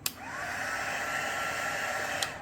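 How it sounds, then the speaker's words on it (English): A small heat gun blows alcohol inks across resin for coasters, a steady close whooshing hum with a faint whine, switched on with a click at the start and another click near the end. "I have got my little, what do you call it? Little heat gun."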